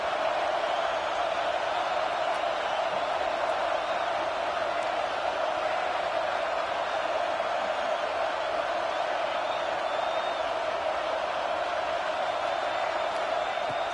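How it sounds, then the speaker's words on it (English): Stadium home crowd in the College Football 26 video game, a steady roaring wall of cheering and noise that holds evenly throughout without a distinct peak. "this home crowd is fired up and ready to make a difference"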